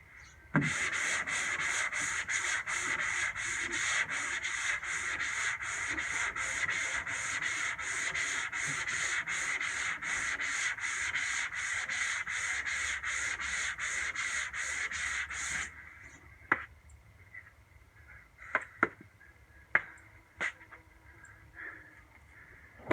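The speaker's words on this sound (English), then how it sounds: "what I'm doing here is I'm sanding the top" Rhythmic back-and-forth sanding strokes rasp steadily for about fifteen seconds, then stop, leaving a few scattered taps and knocks in a quiet room.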